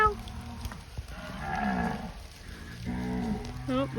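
Cattle along a hiking trail in Costa Rica low and moo in several long, drawn-out calls from nearby, with some overlapping, amid faint outdoor background noise.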